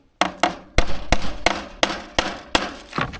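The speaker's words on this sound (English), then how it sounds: "See if we want to hammer that post." Hammer blows drive a wooden post while building a pig trough, about nine sharp, loud strikes at an uneven pace, close by with no talking.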